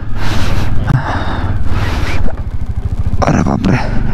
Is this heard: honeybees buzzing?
no